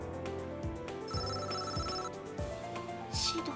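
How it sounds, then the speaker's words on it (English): A phone rings in the Date A Live: Arusu Install dating game as a call goes out from Shido's phone: a steady electronic ringtone plays over soft background music, and there is no talking. "Let's call her from Shido's phone."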